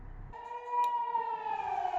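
A Swiss general emergency civil defense siren holds a steady, faint wailing tone, heard from indoors behind triple-pane glass.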